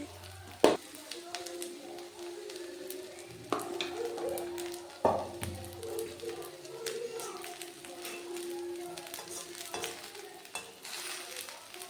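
Thick-cut papaya fritters fry in hot oil with a continuous crackling sizzle, broken by a few sharp knocks and scrapes as a utensil stirs and turns them.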